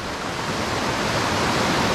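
Tapuakan River in Pugo, La Union, flowing steadily with a broad, continuous rush of water, close and even, with no voices present.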